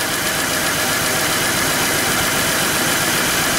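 A 2000 Pontiac Bonneville engine idles roughly with a misfire on cylinder 3, a loud, dense, continuous mechanical roar up close with no voices.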